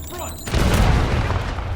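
Semtex grenade blast in a Call of Duty multiplayer match: a sudden loud boom after a brief quieter lead-in, followed by a broad rumbling roar that lingers to the end.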